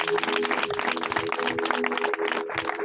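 A congregation at an open-air hillside church meeting claps hands together in thanks, a steady dense patter of many hands over a sustained tonal backdrop.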